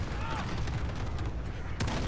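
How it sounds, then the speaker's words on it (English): Gunfire in Call of Duty: Modern Warfare, shooting at a counter UAV: dense, continuous rattle of shots with a sharper burst near the end, steady and loud throughout. "Let me try to take out this counter UAV here."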